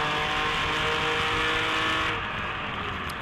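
A Datsun race car howls past at high speed during a historic racing event at Monterey, its engine roaring loud and steady before the pitch drops and fades slightly as it pulls away.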